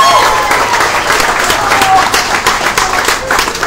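A gathered audience at a birthday celebration claps for the parents in a steady, dense round of applause that holds evenly throughout, with some crowd murmur mixed in.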